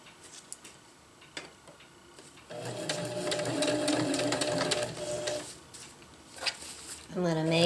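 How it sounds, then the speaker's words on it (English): A sewing machine stitches around the opening of a fabric drawstring channel on a stuff sack, a close, rhythmic whirring run of stitches with short starts and stops, and a voice talks over part of it. "I'm just going to sew around it."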